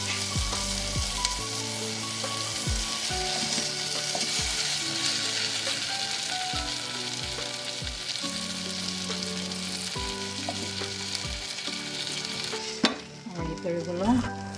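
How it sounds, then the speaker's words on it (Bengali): Garlic cloves fry in a pan for a cauliflower and tomato bhorta, giving a steady close sizzle with repeated scraping and stirring thumps throughout and a clatter near the end. "রসুনটা লাল লাল করে ভাজা হয়ে গেছে।"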